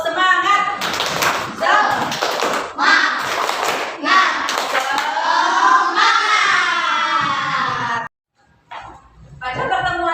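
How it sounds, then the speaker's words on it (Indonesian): A classroom group claps hands in a quick rhythmic pattern while chanting along, the claps loud and close in bursts before trailing off into a brief pause. "ayo tepuk semangat."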